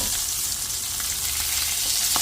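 Pink salmon fries in a pan just after being flipped: a steady, dense sizzle and crackle of hot oil, close and fairly loud, continuous with no talking.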